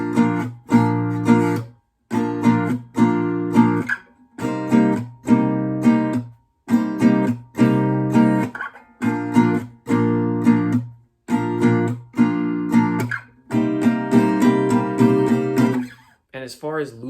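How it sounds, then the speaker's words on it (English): Close, clear acoustic guitar playing the pre-chorus of a song, live looping version, in repeated rhythmic strummed bursts with short gaps, growing busier toward the end before a final brief flourish. "And all of the guitar playing part for pre-chorus 1 would sound like this."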